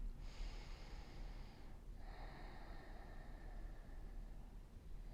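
A slow, deep meditative breath during a gentle stretch session: a long airy inhale, a brief pause, then a drawn-out exhale, close and soft with no talking.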